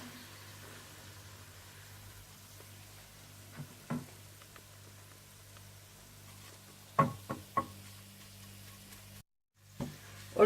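Onions fry in a pan until golden brown, giving a faint, steady sizzle broken by a few sharp spoon knocks against the pan and a brief drop to silence near the end.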